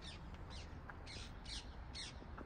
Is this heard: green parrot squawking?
yes